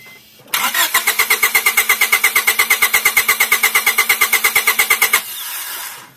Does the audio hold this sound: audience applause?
no